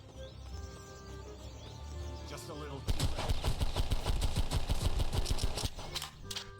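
Rapid gunfire with rocket blasts in a Roblox shooter, a steady burst of close, loud shots firing in quick succession after a lower rumbling stretch.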